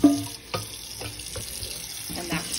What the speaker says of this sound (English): I always, always, always run cold water over them